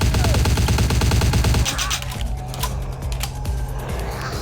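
Rapid automatic gunfire from a gun in Vampire the Masquerade Bloodlines, a dense, loud burst of shots for about a second and a half, then stopping and leaving quieter game ambience with a few faint clicks.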